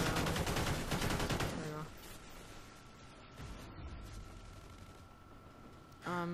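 Sustained rapid automatic gunfire in Call of Duty Ghosts Extinction mode, a dense rattling burst lasting about two seconds, then a quieter noisy stretch with a steady tone before another short burst at the end.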